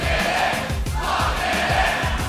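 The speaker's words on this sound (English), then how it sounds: "Crowd in a very jovial mood here for the CLG." A large arena crowd at a League of Legends esports match roars and cheers continuously, a dense, loud wall of voices with rhythmic clapping or stomping pulses underneath.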